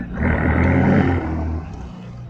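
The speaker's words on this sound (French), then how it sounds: "Alors je trouve qu'elle fait un bruit sympa là, je sais pas si elle a l'échappement d'origine" A Ferrari California's engine and exhaust roar loudly and close by, a deep sustained bellow that swells and then eases off, with some voice alongside.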